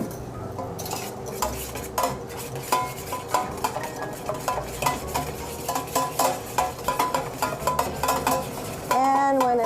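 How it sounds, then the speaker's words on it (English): A whisk beats eggs into a mixture of herbs, spices and Parmesan cheese in a bowl, making rapid, rhythmic clinking and scraping strokes close up, quickening toward the end. "to that we are going to whisk in a couple of eggs"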